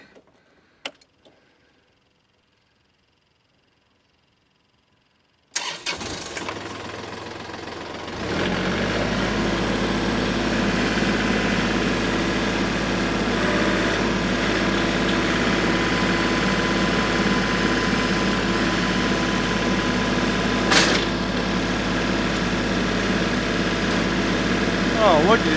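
A Kubota L3301 tractor with a new Land Pride grapple starts up after near-silence and settles into a loud, steady, close engine rumble that runs without a break to the end.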